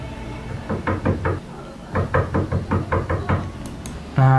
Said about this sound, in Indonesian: ada orang yang ketok pintu.